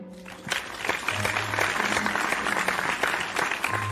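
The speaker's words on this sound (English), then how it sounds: "let's give a special round of applause to Classic Caillou" A classroom round of applause for a boy who passed his exam, dense steady clapping from a small group that starts after half a second and carries on to the end, with a faint voice underneath.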